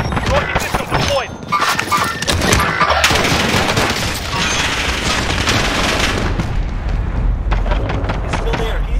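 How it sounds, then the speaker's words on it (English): Rapid bursts of explosions and gunfire from a rocket system strike in Call of Duty Warzone on Rebirth Island, loud and dense throughout, with a voice talking over the barrage. "Rocket system deployed."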